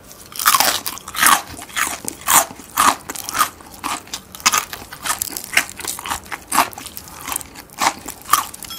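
Crispy battered Korean market fried chicken bitten and chewed right at the mic, a steady rhythm of loud crackling crunches roughly every half second, alone with no talking.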